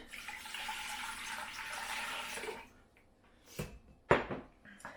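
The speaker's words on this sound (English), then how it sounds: "So I'm going to start by putting my water in." Water runs steadily into a bowl for whole wheat bread dough for about two and a half seconds, then stops, followed by a couple of brief clinks and knocks from the bowl and utensils nearby.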